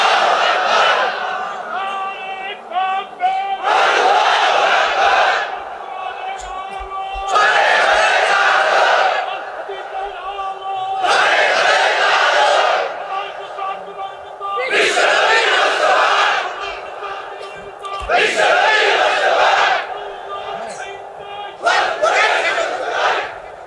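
A large crowd at a Bengali Islamic religious gathering roars the takbir response in repeated loud waves, each collective shout lasting a couple of seconds and separated by brief lulls, with a preacher's voice leading between them.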